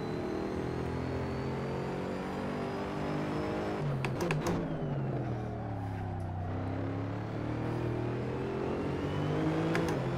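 A GT3 race car in the Assetto Corsa sim racing game at Laguna Seca pulls out of a corner in fourth gear, its engine droning steadily with rising and falling pitch throughout, loud and continuous with brief gear-shift blips midway.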